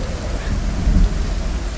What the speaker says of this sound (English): Oh man, listen to that storm.